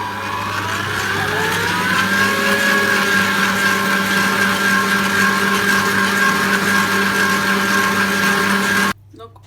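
An electric mixer beats eggs with sugar for a simple two-egg cake, a steady whirring hum with a high whine running loud and continuous for about nine seconds before cutting off abruptly.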